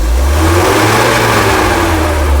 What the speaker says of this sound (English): you rev the engine